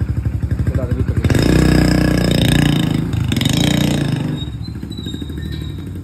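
A motorcycle engine runs close by with a steady mid-pitched throb that swells louder for a few seconds, then eases back to a rhythmic idle-like chug with some mechanical clatter.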